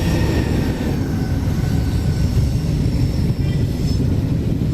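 A steady, heavy rumble of an Indian express train rolling past in Train Simulator, with a constant low roar and faint metallic whine, continuous throughout.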